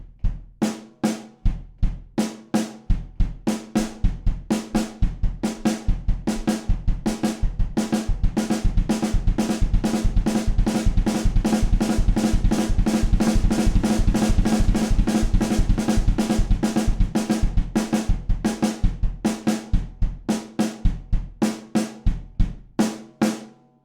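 A drum kit bass drum played with heel-toe doubles alternating with hand strokes in a steady sticking pattern, starting slow, accelerating to a dense rapid roll, then easing back to slow; loud, close and unaccompanied.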